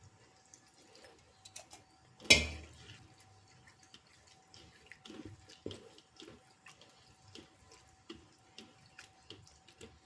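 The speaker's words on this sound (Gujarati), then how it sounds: "ઠંડા પાણી એને આપણે ધોઈ નાખવાના છે સરસ।" Poha (flattened rice) is washed in cold water in a bowl, giving soft, sparse splashes and drips after one sharper clatter, faint and close, with no talk.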